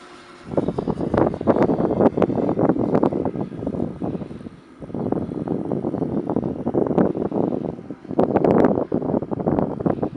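Gusty wind of about 12 to 15 mph buffets the microphone at an RC model airfield. The loud, rushing roar swells and eases in waves, with no voices.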